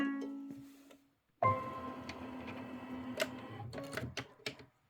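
A sewing machine starts up: a hum that fades away, a short silence, then the motor kicks in abruptly and runs with a steady whir, broken by a few sharp mechanical clicks and clunks near the end.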